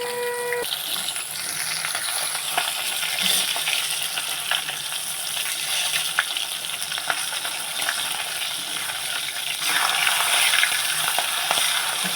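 Fish frying in oil as the pieces are turned, an even hiss of sizzling with small clicks and scrapes of stirring, steady and close, with no talking.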